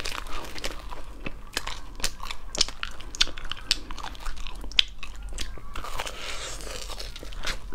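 Crunchy spicy food being bitten and chewed close to the mic, with a run of crisp, irregular crunches and a brief crinkling burst near the end, no talking.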